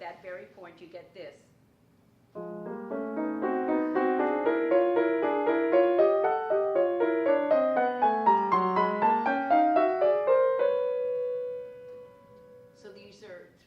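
Piano played with both hands together, a dense harmonic passage of overlapping notes sustained for about eight seconds after brief speech, ending with a held chord before speech resumes.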